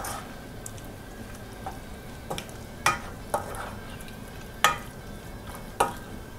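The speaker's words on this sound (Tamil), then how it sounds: "இப்போ இதை வந்து நல்லா மிக்ஸ் பண்ணி விட்டுடலாம்." A spoon stirs masala into a winter melon stew in a pot, with gentle sizzling underneath and a few sharp scraping clicks spaced irregularly.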